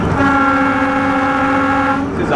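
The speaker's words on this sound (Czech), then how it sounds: "Houkačka je potřeba vždycky vyzkoušet." A locomotive horn on Czech diesel locomotive 755 001 sounds in one loud, sustained steady blast close by for about two seconds, then cuts off.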